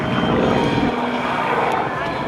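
Propeller aerobatic airplane flying point rolls and a snap roll at a military open house air show, a loud continuous engine roar with shifting pitch over a busy crowd-and-announcer background.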